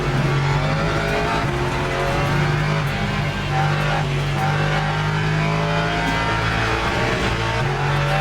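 A rain-soaked endurance race in the video game Le Mans Ultimate with a Lexus spinning out: a steady, loud engine drone holding its pitch with faint tyre and gear shifts, the sim-racing car audio continuous and free of voices.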